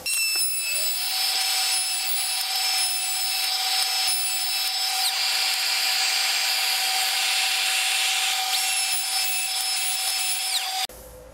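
A handheld router with a bearing bit rounds over the long edges of a wooden CNC-made foot rest freehand, a loud steady high-pitched whine running nonstop for about eleven seconds before cutting off abruptly.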